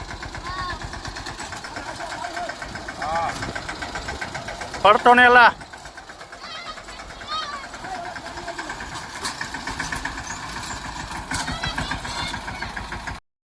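A tractor engine runs steadily at idle on a farm during a Diwali-time Dhoka day outing, a low continuous chugging under frequent talk, with a brief louder clattering burst midway.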